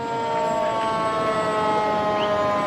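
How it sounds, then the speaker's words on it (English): A fire engine siren wails continuously from Wilson engine 2 during a volunteer fire department procession at the Windsor Shad Derby Parade, loud and steady with harmonic tones and no voices. "And of course, Wilson, engine 2."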